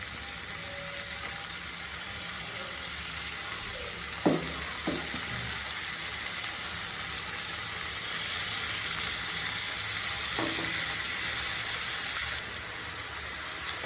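Marinated chicken pieces for lemon chicken sizzle steadily in a hot frying pan, a constant close hiss of frying oil with a few soft clinks as pieces are laid in, no talking.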